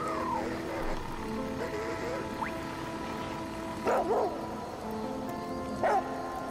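A dog in the survival game The Flame in the Flood gives two short pairs of barks, moderately loud over a steady game soundtrack, with a few quieter yips and whines earlier.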